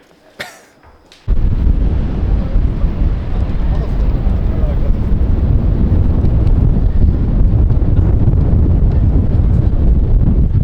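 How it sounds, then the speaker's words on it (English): Heavy wind buffets the microphone with a loud, constant roaring rumble that starts abruptly after a second of quiet and continues throughout. "It is so windy."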